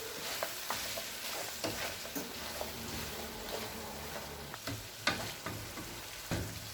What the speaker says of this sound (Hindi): अब इसमें आधा चाय का चम्मच काली मिर्च पाउडर डालेंगे, आधा चाय का चम्मच खुश्क धनिया। मिक्स कर लेंगे एक बार।